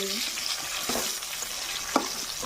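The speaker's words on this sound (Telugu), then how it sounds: "కొంచెం పసుపు వేసినాక వేగనియ్యాలి" Turmeric sizzles steadily in hot oil in a pan during home cooking, with a soft continuous frying hiss and a few light stirring scrapes.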